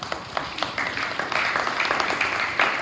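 Audience clapping for Tony the treasurer at a parents' meeting, a moderate scattered applause that builds slightly and continues steadily for a few seconds.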